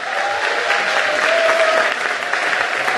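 Applause at a church gathering: a room full of people clapping steadily and fairly loud, with a constant dense patter and no pauses.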